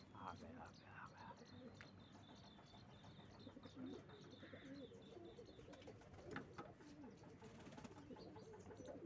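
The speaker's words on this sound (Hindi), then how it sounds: "ऊपर नीचे हैं कबूतर।" Pigeons cooing at a pigeon-flying (kabootar bazi) gathering, soft repeated coos and bird calls running steadily through the clip amid outdoor ambience and faint background voices.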